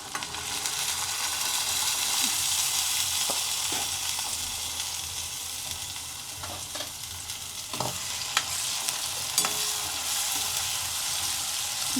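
Boiled chickpeas stirred into hot oil with chilli and garlic, giving a continuous close sizzle broken by scattered clicks and scrapes of the spoon against the pan, with no voices.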